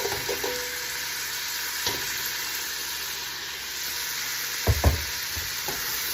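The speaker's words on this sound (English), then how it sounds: "Stir them around." Roasted red peppers and petite artichoke hearts stirred in a hot soup pot, giving a steady sizzle with a few sharp clinks and scrapes of the spoon against the pot.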